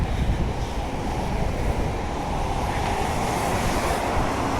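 A train sits at Aubin Grove station platform, producing a broad, steady rumble and wash of noise with wind buffeting the microphone, loud and continuous throughout.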